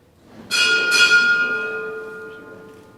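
A ship's bell strikes twice in quick succession at a Navy retirement ceremony, bright and loud, then rings out with a long, slowly fading metallic tone.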